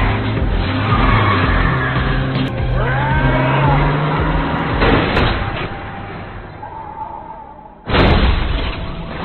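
Cars racing in a tense chase, engines roaring loud and close with tires squealing and skidding, a short lull before another sudden burst of revving.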